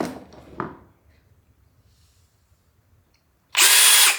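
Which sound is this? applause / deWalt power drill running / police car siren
deWalt power drill running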